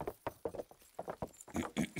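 A horse's hooves clip-clop in a quick, steady rhythm in the medieval game Kingdom Come: Deliverance, close and distinct, with no talking.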